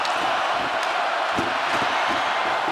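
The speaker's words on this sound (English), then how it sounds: "this crowd trying to run them on to tie it" A hockey arena crowd roars steadily at a Colorado at Montreal game, a dense, loud, continuous wash of cheering with a few thumps underneath.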